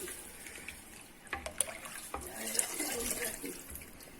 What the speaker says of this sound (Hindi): अब मैं इसमें पानी शामिल करती हूँ।